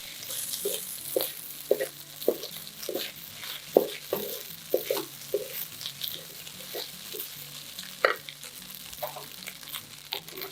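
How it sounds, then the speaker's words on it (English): Fried rice ingredients seasoned with fish sauce being sautéed in a pan: a continuous sizzle broken by regular spatula scrapes and taps as the mixture is stirred. "Continue to sauté them until mixed well."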